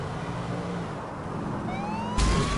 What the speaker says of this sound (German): Einmal kurz die Taste gesucht zum Sirene anmachen und schon jemanden reingefahren.